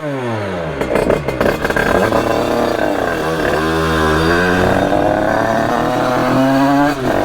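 A 70cc 2Fast two-stroke motorcycle fires up and revs hard, its buzzing engine note climbing and falling in repeated sweeps, loud and close throughout.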